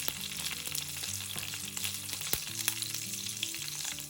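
Green chillies fry with cumin seeds in a pan, giving a soft, steady sizzle with light crackles close by and no talking; quiet background tones run underneath.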